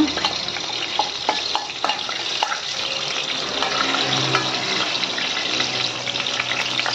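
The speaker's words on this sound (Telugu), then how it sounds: "బిర్యానీ ఆకు 2 చిన్నవి 3 చిన్నవి వేస్తున్నానండి. ఇది కొంచెం లైట్గా వేగాక" Small bay leaves fry in hot oil with a loud, steady sizzle and crackle, broken by a few brief clinks and stirring sounds near the start.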